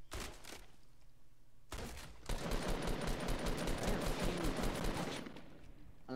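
Assault rifle fire in the video game Fortnite comes in a few quick shots, then a long sustained burst of dense, rapid gunfire that fills most of the stretch before cutting off, with no talk over it.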